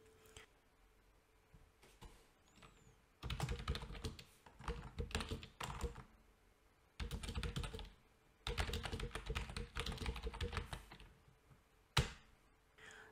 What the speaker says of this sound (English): then start typing the second line of text